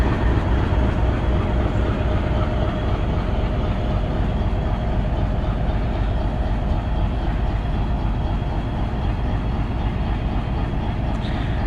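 Hazara Express running at speed behind an Alco 2000 hp diesel locomotive, a continuous loud roar of engine and wheels on track, steady and close throughout with no talk.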